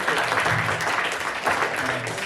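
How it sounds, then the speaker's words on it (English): Audience applause at a live comedy game show in a Los Angeles theater, a dense burst of clapping with some voices mixed in, loud and steady across the short span. "Clap it up for your next player, Nick, everybody."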